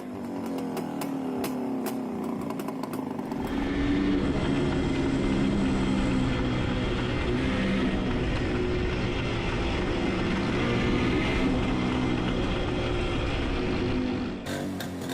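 A classic Czech CZ 175 two-stroke motorcycle engine runs loud and close, a rough buzzing drone that swells after a few seconds and holds steady before dropping off at the end.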